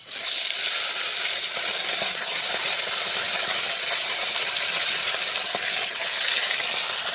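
Fish pieces frying in hot oil in a wok, giving a steady, broad sizzle that stays fairly soft and even throughout. No voices are heard.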